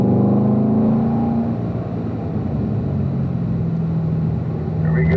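A car lapping a race track at a performance driving school, its engine droning steadily and fairly close with a sustained rumbling tone, no talk over it.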